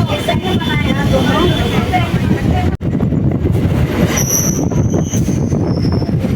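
A local train leaving Naihati Junction at night rumbles steadily along the rails, loud and close, with metallic wheel squeals rising near the end and a voice under the noise.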